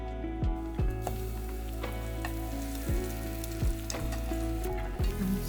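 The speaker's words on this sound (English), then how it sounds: "once it's fried in butter" French toast fries in butter with a constant crackling sizzle up close, punctuated by several sharp clicks or taps of utensils against the pan at irregular intervals, and no one speaking.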